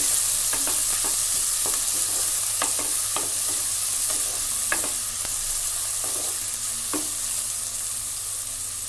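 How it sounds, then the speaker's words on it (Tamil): Onions frying in a pan for a village-style chicken curry, with a steady hiss of sizzling oil and occasional scrapes of a spatula stirring them. "ஒரு 2 மினிட்ஸ் நல்லா ஃப்ரை ஆகட்டும்."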